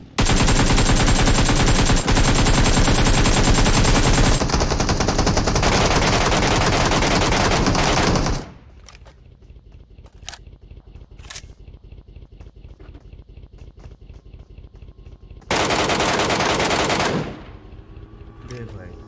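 Gunfire sounds in the battle royale video game BGMI. Dense, loud automatic bursts run for several seconds, then sparser single shots follow, and another loud burst comes near the end.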